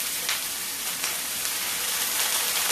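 Frozen onions sizzle in a hot pan with a dense, steady hiss and scattered sharp pops and crackles throughout, close and fairly loud, with no talking.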